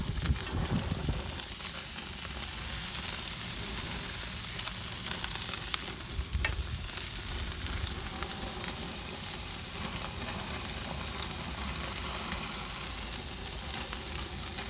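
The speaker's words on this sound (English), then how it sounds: "We waited until the last batch of the slices were on the grill to put the shrimp on there." Shrimp and slices of top sirloin cap sizzle steadily on a grill, a dense, even crackling hiss that holds near and constant throughout with no voices.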